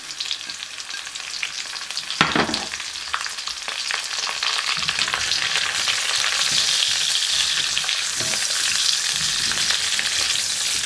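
Onion frying in a hot pan alongside thinly sliced pork, a steady close sizzle that jumps with a sharp burst early on, then settles into continuous loud crackling.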